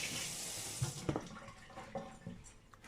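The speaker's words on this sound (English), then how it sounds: "Just wash my hands." Hands being washed under a running kitchen tap, a soft steady hiss of water with faint splashes and clatters, quiet and close with no talking.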